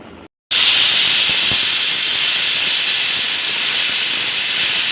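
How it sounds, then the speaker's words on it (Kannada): A pressure cooker vents steam while flattened rice payasam cooks. After a brief silent gap, a loud, continuous hiss starts and holds steady to the end. "ಕುಕ್ಕರ್ನ ಕ್ಲೋಸ್ ಮಾಡಿ 1 ವಿಷಲ್ ಕೂಗಿಸ್ಕೋಬೇಕು."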